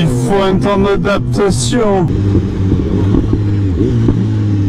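A BMW S1000R motorcycle accelerating hard, its exhaust rising in pitch through quick gear changes before settling to a loud, steady drone, heard close, with a voice speaking over it.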